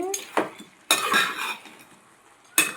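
A spoon scrapes and clinks against a pot while eggplant and prawn curry is stirred, with several short, close metallic knocks and shuffling in a quiet kitchen.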